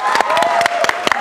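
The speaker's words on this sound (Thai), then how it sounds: "ดีอ่ะมีคนปรบมือช่วย" An audience at a Thai talk-show interview applauds, a quick patter of clapping heard close under overlapping talk for just over a second.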